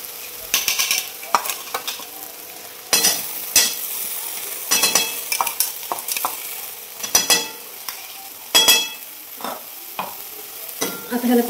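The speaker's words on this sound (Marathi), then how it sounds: "आता ह्याला चांगलं 1 ते 2 मिनिटं तेल सुटेपर्यंत आता परतून घेते." Masala sautés in oil in a pan with a continuous close sizzle, broken by repeated loud scraping strokes of a stirring spoon, with no voices.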